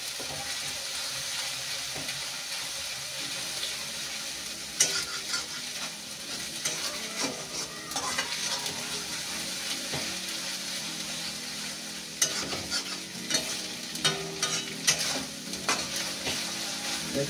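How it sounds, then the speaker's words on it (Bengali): Poppy seeds lightly frying in oil in a pan while preparing rui fish rezala: a steady close sizzle with scraping stirs, punctuated by a few sharper clinks of the spoon against the pan. "পোস্তটা হালকা ভেজে নিই, এর মধ্যে আমি দই দেবো আবার।"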